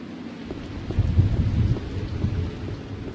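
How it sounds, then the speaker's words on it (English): A thunderstorm rolls in the video game The Black Mirror, steady rain hissing throughout while a low thunder rumble swells in the middle and fades, with no speech. "When will the storm end?"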